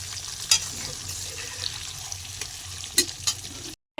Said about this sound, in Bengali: চুলায় একটি প্যান বসিয়ে দিয়েছি, ওটার ভেতরে আমরা ডিম দিয়ে দিয়েছি